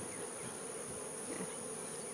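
Honeybees buzz densely and continuously at an open hive, a steady close swarm drone with no voices.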